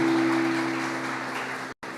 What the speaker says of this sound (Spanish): Vamos a dar un aplauso a nuestro Jesús resucitado.